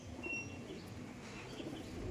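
Madrasi pigeons, tournament-quality birds kept for sale, coo softly in low, murmuring tones, a quiet continuous burble close by with no talk.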